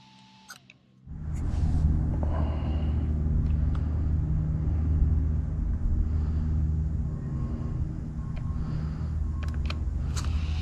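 A Traxxas XRT RC truck with belt drive and cooling fans starts up after a quiet second, then gives a close, loud, steady rumble and motor whine while it drives, with faint ticks and knocks over the top.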